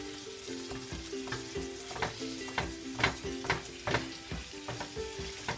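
Ground meat frying with onions in a pan for simple tacos, a steady sizzle broken by rhythmic scraping and tapping as the meat is broken up, with faint background music.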